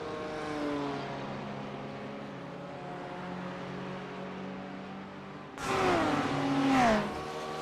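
A Porsche GT race car engine in a racing video game drones steadily with layered harmonic whine, then a louder burst of rising and falling revs near the end as the car passes or shifts.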